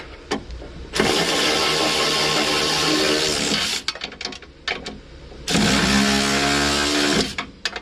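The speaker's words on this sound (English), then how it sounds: "gotta get the handy old electric zapper tool." Electric power tool running on motorcycle bolts in two long loud whirring bursts with a brief buzzing pause between, close up, with no talking.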